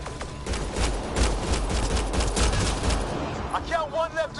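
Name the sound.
gunfire in the video game Mass Effect Andromeda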